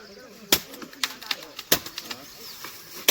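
Sparrows flap their wings in a quick burst of sharp, scattered flutters as they fly off, close and brief, with a faint voice in the background.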